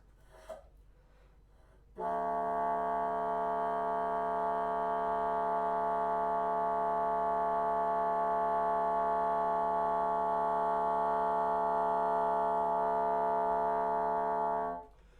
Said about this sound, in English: this is a really rich, stable multiphonic